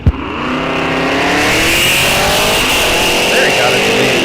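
A 1966 Mustang muscle car revs at a drag strip starting line, a loud sustained engine roar building after a sharp opening crack, close to the listener.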